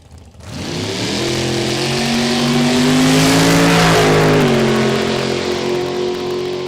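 A drag racing car accelerates hard down the strip at Mo-Kan Dragway, its engine climbing in pitch through a gear change and staying loud and near, with no voices.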